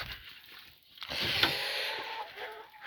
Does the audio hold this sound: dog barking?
no